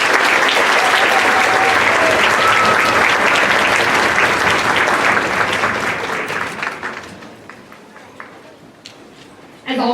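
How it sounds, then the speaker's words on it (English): An audience at a school band winter concert applauds the sponsors, a loud, dense round of clapping that gradually thins out and fades, ending with a few scattered claps. "Let's give all of these businesses a round of applause."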